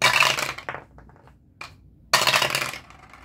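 Dice rolled onto a hard surface during a savings challenge game, two bursts of rattling clatter separated by a few small clicks and taps as they settle.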